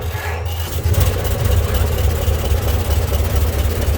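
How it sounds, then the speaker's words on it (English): A 1926 Ford Model T truck engine settles into an idle right after being started, a loud, close, steady low rumble with an even throbbing pulse. "We're just going to let it idle like this just a second."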